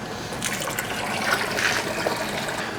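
Water pours steadily into a container holding corals being packed for transport, giving a continuous close splashing gush that fills the whole short stretch without any talk.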